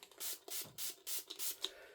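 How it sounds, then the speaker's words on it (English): A spray bottle pumped in quick succession, about six short hissing bursts in a rapid, even rhythm, close up, spraying leftover ink on a card-making stencil. "I'm just going to do the same, spray it."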